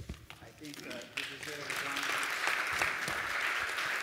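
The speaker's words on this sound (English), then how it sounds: "You deserve a round of applause" Panel audience applause for a speaker at a conference on global socioeconomic trends: talk in the first second gives way to clapping that builds and continues steadily.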